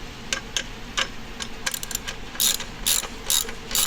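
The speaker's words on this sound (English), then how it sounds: "Last but not least, gotta tighten down the strap." A hand ratchet clicks in short rhythmic runs, tightening an aftermarket exhaust strap on a Yamaha R9 motorcycle. The strokes are close and crisp and grow louder toward the end, with no speech.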